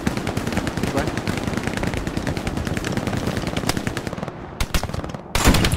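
Machine gun fire in the Hell Let Loose World War II shooter at Carentan rattles in rapid loud bursts, with short gaps near the end before a final sharp burst.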